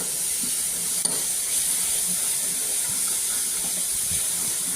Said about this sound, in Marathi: असं स्वच्छ नीट हलवून घ्यायचं